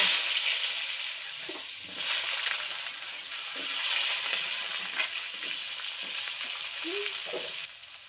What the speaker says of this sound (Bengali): আমি আলুগুলো ভেজে নেব।